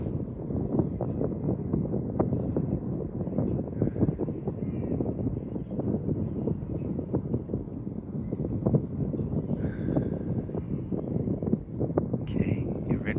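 Steady breezy wind buffeting on an outdoor pier, a continuous low rushing roar that fills the whole stretch, with faint background sounds over it.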